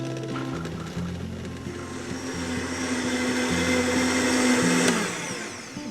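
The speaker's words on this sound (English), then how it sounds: "all of that will go onto the blender, and we're going to blend it to a smooth puree" A blender whirs steadily as it purees hot soup for a tamalada meal, its motor pitch shifting in steps before one sustained high whine that drops off near the end, loud and alone.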